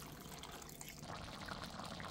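Water poured into a pot that already holds dry penne pasta for tomato basil Hamburger Helper, a soft, continuous trickle and splash that stays faint and steady from start to finish.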